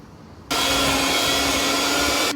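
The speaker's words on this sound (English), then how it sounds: "Now I'm gonna get a hand mixer." Electric hand mixer switching on abruptly and running steadily, a loud, even motor whir with a broad buzzing hiss, close by and alone.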